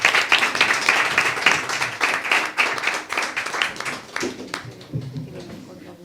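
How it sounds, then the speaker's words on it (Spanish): An audience bursts into dense clapping at a memorial tribute to COVID victims. The applause is loud at first, then thins and fades over several seconds as a voice begins speaking near the end. "Un aplauso para todos."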